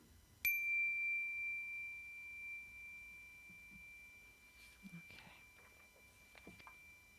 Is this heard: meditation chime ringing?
yes